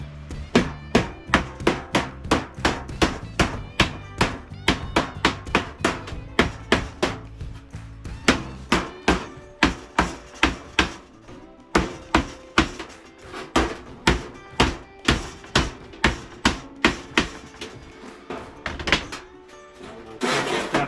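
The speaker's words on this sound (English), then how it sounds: "Don't tap your fingers. Stay well clear of the hammerhead." Dozens of sharp hammer blows ring out in a steady, fast rhythm, each a bright metallic strike with a short ringing decay, close and loud.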